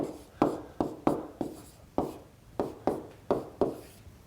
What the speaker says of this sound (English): let me write this expression a lot bigger